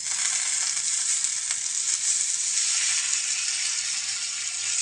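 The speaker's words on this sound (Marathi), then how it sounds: "तर आता याच्यात आहे ना कांदा टाकून घेऊ" Sliced onion frying in a pan, added over coconut just roasted, giving a constant close sizzle with a bright hiss that barely varies, and no voices.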